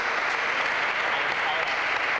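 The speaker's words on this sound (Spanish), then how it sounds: "Aplausos" A studio audience on a Spanish TV show breaks into loud, dense applause, a steady roar of many hands throughout with no pause.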